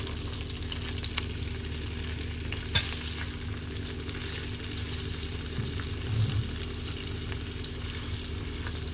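Eggplant slices fry in hot oil for an okra and eggplant dish, giving a constant close sizzle with a few small pops and the odd clink. No one talks.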